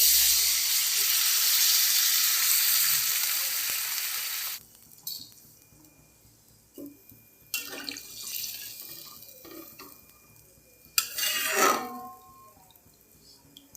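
Water poured into a pan of cooking vegetables for a Bengali fish and potato curry, with a loud broad hiss for several seconds that cuts off abruptly, followed by a few quieter splashes and bursts of sizzling.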